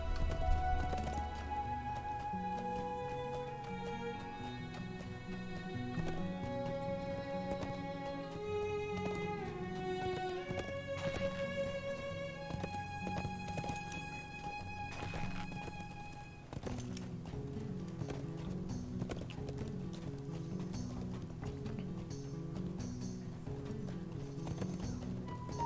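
Horses' hooves clip-clop at a slow walking pace under a continuous bed of layered music, with steady rhythmic hoof knocks throughout and no talking.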